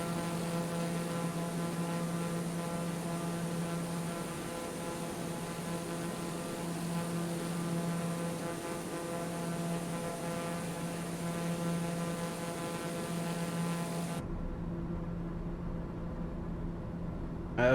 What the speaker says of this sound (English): Gotta love a good turboprop